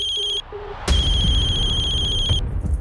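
A telephone ringtone in a tense household scene, a repeating electronic chime with steady tonal pulses that starts quietly, then sounds loud and close for about a second and a half before cutting off.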